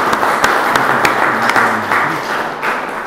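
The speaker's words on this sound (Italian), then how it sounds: "Un applauso, per favore." An audience applauding steadily at a poet's commemoration event, dense clapping with a few sharper individual claps standing out, fairly close and full.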